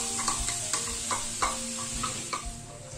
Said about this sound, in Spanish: Y ahora vamos a echarle la cebollica y el ajo.